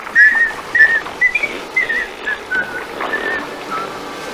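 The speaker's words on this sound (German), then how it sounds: "Und inzwischen pfeifen wir uns ein hübsches Liedchen." Someone whistles a pretty little tune in a series of clear, bright, short phrases with small pauses between them, close and prominent, with no talk over it.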